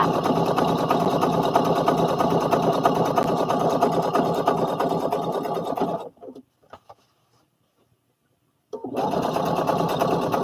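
A sewing machine stitches a button strap in a rapid, even mechanical run. It stops for a few seconds of near silence, then starts stitching again at the same steady pace.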